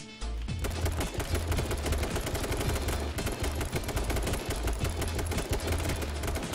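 Rapid, continuous bursts of gunfire in H1Z1: King of the Kill rattle loudly throughout, dense and unbroken like automatic weapons firing.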